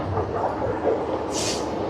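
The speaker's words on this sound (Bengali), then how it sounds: "ট্রেনের গতিবেগ প্রায় 80-85 গতিবেগে ট্রেন এখন ছুটে চলেছে তমলুক স্টেশনের উদ্দেশ্যে" Haldia–Asansol superfast express train running at about 80–85 km/h toward Tamluk, a steady close rumble and rattle of the carriage throughout, with a brief hiss rising near the end.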